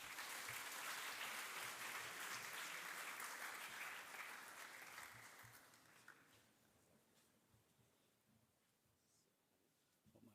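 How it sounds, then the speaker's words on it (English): Loud audience applause at an Islamic students' annual general meeting starts full and then tapers off over several seconds into sparse scattered claps and near quiet. "Please give him a round of applause."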